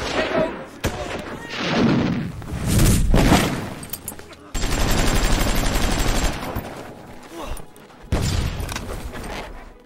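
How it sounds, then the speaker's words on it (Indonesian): Battle scene from a war film about the Malmedy massacre, with bursts of rifle and machine-gun fire alongside heavy thuds and booms. The firing comes in loud, dense, sustained volleys, broken by brief pauses and sudden restarts. "Tentara Amerika yang menyadari Deacon adalah orangnya bergegas memberikan tembakan perlindungan."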